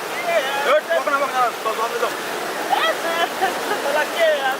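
A large river rushes in a constant broadband roar, with people talking over the steady water noise.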